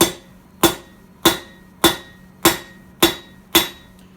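A blacksmith with hammer and anvil strikes a hot steel piece to shape a decorative leaf: seven loud, evenly spaced ringing blows about every 0.6 seconds, each with a short metallic ring, close and alone.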